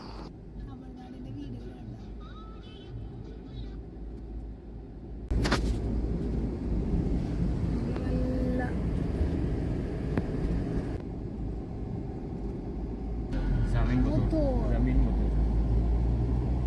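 A car speeds along a wide, empty Tamil Nadu highway on a road trip toward Trichy, heard from inside as a steady low road-and-engine rumble that swells slightly partway through, with voices talking over it.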